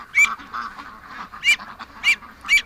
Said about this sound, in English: the ducks are getting upset at me